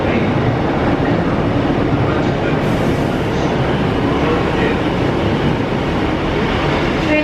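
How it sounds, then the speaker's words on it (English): Passenger train pulling into a platform at a Welsh station near Cardiff, on the Merthyr line toward Treforest: loud, continuous close rumble and rolling wheel noise with faint clatter, filling the whole span without a pause. "The train has just arrived, and I'd like to let you hear this."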